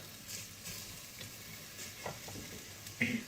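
Onions sauté in a pan until lightly pink for a fresh broad bean dish: a soft, continuous sizzle with a few light stirring scrapes, close but quiet, with no talking.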